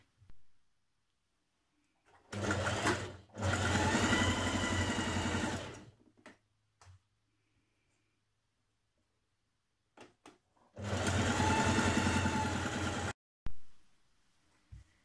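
A sewing machine stitches a shoulder seam on a Simplicity 9045 blouse, running in two loud sustained bursts of rapid mechanical whirring with short starts and clicks around them and quiet gaps between, close and without talk.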